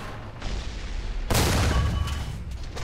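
A World War II tank cannon fires in War Thunder amid a tank battle, one loud close boom with a rumbling tail over steady background battle noise.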